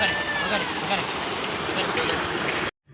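Water runs steadily along a canal, a dense, continuous rushing that fills the foreground and cuts off abruptly just before the end.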